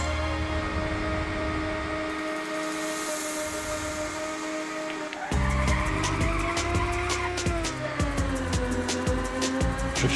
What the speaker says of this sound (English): Drifting a Le Mans race car at 180